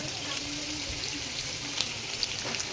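Onions frying in hot oil for a homemade party meal, with a steady soft sizzle and occasional small crackles. The sound stays even and low-level throughout, with no talk.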